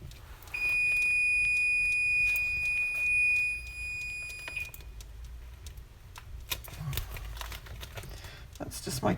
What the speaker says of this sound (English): That's just my timer telling me it's time to put it on here.